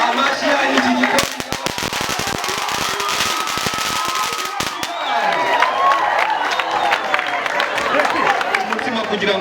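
Guests at a wedding clap in a rapid, crackling burst of sharp hand claps over crowd murmur, then the clapping thins as chatter and voices carry on, with a speaker talking over the crowd.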